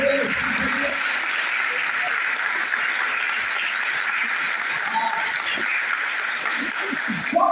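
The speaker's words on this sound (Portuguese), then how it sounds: "Se você puder bater palmas" A church audience applauds a bishop with sustained, dense clapping that holds steady throughout, with some voices mixed in the crowd.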